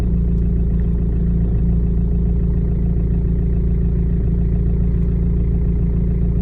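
A 2013 Renault Megane MK3 1.5 dCi K9K diesel engine idles with a loss-of-power fault, giving a steady, close, even drone with a low rumble and no revving, heard alone.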